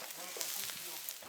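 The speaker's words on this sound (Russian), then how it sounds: "А пока что мы начинаем жарить шашлычки." Shashlik meat grilling outdoors gives a steady, close, moderately quiet sizzle with faint crackles, with no talk over it.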